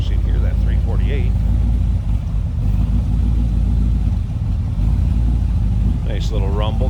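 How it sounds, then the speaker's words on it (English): Steady low rumble of the 348 V8 in a 1949 Chevrolet 3100 pickup street rod, idling close and loud, with someone talking briefly at the start and the end. "Nice little rumble coming out of that V8."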